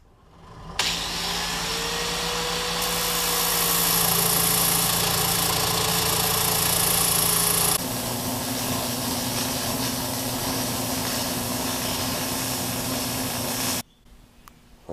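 Welded steel circles for a drift trike are turned down on a machine, giving a loud, steady motor whine with a humming tone that shifts pitch midway, then runs evenly until it cuts off abruptly near the end.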